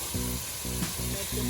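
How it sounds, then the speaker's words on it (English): Steady sizzling of pork frying in a hot pan, a continuous crackle with a faint low hum underneath. "So we're frying the pork."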